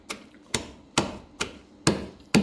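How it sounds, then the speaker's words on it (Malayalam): About 50 grams of garlic cloves crushed for a homemade amla (gooseberry) pickle, heard as six sharp, evenly spaced pounding thumps, roughly two per second, close and fairly loud with no talking. "ഒരു 50 ഗ്രാം വെളുത്തുള്ളി നമുക്ക് ചതച്ചെടുക്കാം."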